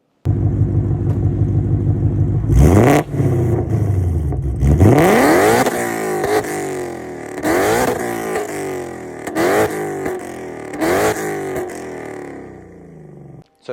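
A Ford Mustang GT fitted with headers and an MBRP exhaust idles with a deep steady burble, then revs hard several times in quick succession, each rise snapping back to idle, loud and close.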